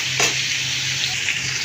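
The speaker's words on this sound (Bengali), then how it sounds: "আমি তেলের ভিতর চিংড়ি মাছটা ভেজে নিচ্ছি" Shrimp frying in oil with salt gives a bright, continuous sizzle close by, steady throughout with a brief stir near the start and no talking.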